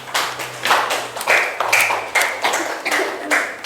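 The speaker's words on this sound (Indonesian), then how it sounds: "Tepuk tangan dulu untuk teman-teman kita." Schoolchildren in a classroom clapping for their classmates in a loud, steady rhythm, the whole class striking together in evenly spaced bursts about twice a second.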